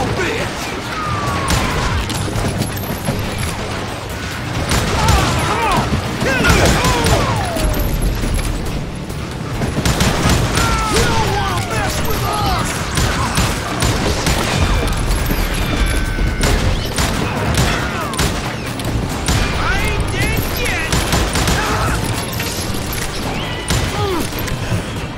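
Dense, continuous gunfire in the Western shooter game Call of Juarez Gunslinger, with repeated loud shots and crashing impacts that barely let up, while a voice talks over the action.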